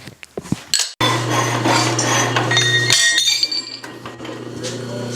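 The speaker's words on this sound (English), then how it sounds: "now we're going to go with the power hacksaw and cut it off" A power hacksaw cuts into steel stock for a forged hatchet, starting after a few sharp metallic clinks and running as a steady loud grinding rasp with a low hum beneath, shifting pitch partway through.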